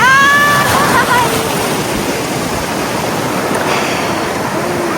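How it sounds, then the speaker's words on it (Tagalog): Large sea waves roll and wash along a beach in a loud, steady roar of surf and spray, with people talking over the water noise. "Ang lalaki ng alon guys."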